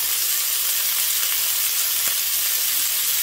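Stir-fried noodles with water mimosa sizzle steadily in a hot pan as oyster sauce goes in, a continuous close frying hiss with a couple of faint clicks.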